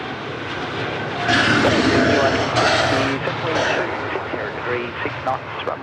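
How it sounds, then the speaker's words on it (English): A China Eastern Boeing 787 rolls down runway 34 left at Sydney Airport. Its engine roar swells loud, then holds steady, while a voice talks over it throughout. "This might be our China Eastern service to Shanghai Airlines. 787 just rolling down 34 left here."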